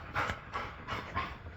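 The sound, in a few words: dog panting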